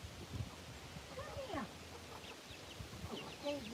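A chicken clucks softly outdoors in short, scattered bursts, fairly faint against a low background rumble and rustle.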